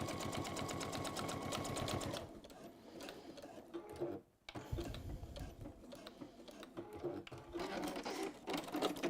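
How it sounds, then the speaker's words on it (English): A sewing machine stitches the bottom line through stacked layers with a fast, steady mechanical whir, loud and close for about two seconds, then stops, leaving handling clatter before it briefly runs again. "So that's why I'm going to sew those together now."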